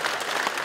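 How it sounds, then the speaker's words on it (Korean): An audience at a lecture gives a brief, dense burst of clapping, steady and full throughout. "박수 한번 주세요"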